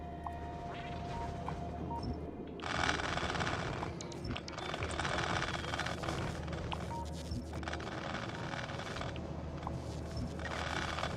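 Gun turrets in the video game Factorio fire in long rapid bursts, dense rattling volleys that start and stop several times over a steady background hum of machinery.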